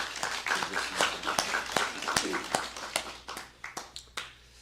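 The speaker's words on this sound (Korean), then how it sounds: "하나님께 영광의 박수 올려드리겠습니다." Church congregation clapping together during a Sunday worship service, a steady stream of sharp, fairly loud hand claps with loose, uneven timing that thins out toward the end.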